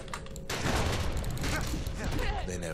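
Calamity Cannon from the video game Bastion firing repeatedly, a loud dense barrage of booming shots that starts abruptly and keeps going, with game narration and talk over it.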